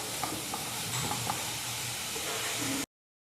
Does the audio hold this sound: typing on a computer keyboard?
no